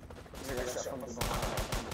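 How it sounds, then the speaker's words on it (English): Gunfire in the Roblox game ERLC: rapid bursts of shots crackle over a noisy game mix, getting denser and louder partway through, with a voice faintly under it. "I'm getting shot from everywhere"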